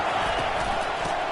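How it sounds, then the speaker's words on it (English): Stadium crowd in a college football video game, SMU versus Miami, roaring as the defense lines up on third down: a dense, steady wall of broad crowd noise with no clear breaks, running under faint commentary. "Decibels rising as the crowd gets behind this defense on third down."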